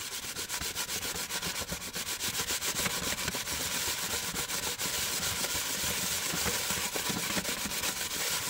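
An Enjo scrubber works marble paste over a surface in brisk, continuous back-and-forth rubbing strokes, a close, fairly quiet scratchy abrasion with a steady rhythm and no voices.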